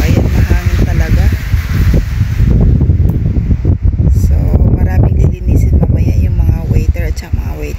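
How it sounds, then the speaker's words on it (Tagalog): Strong wind gusts across an outdoor restaurant terrace in Rovinj, Croatia, with loud, steady rumbling buffeting on the microphone, while a person talks throughout. "So, ayan, mahangin talaga."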